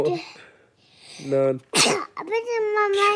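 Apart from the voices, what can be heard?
child sneezing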